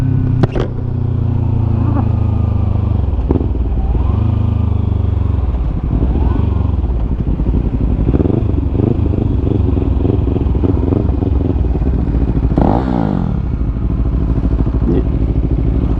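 A 2020 KTM Duke 390 motorcycle fitted with an aftermarket exhaust runs close and loud, a deep throaty steady drone with occasional blips and a brief rev near the end.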